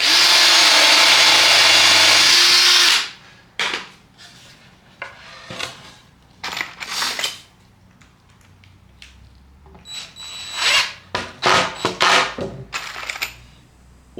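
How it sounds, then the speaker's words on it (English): A power drill drives 3-inch screws to join two pieces of wood into a box: a loud steady whir at first, then several short bursts of drilling and clunks in a quieter workshop. "Now screw these two pieces together with 3-inch screws to essentially make a box."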